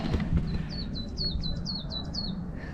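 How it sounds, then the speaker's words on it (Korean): A bird gives a quick series of high, repeated chirps, about eight in a row, on a mountain hiking trail, over a low outdoor rumble and light movement noise. "새소리 좋다."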